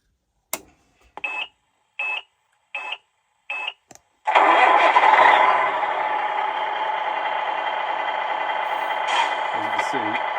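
A vehicle with a steering modification switched back on: several short beeps, then an engine cranks and settles into a steady, fairly loud idle that runs close by to the end.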